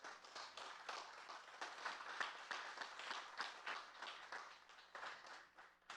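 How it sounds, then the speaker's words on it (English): An audience at a community college public safety training center graduation for firefighters claps steadily, a faint, continuous patter of many hands from a distance. "please offer your family members a round of applause"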